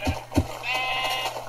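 A Minecraft sheep bleats in a quick nasal burst, heard close and clear, preceded by a couple of short soft thuds.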